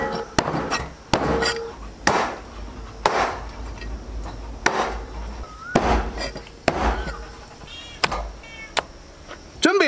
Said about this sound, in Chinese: 全部改成大小均匀的坨坨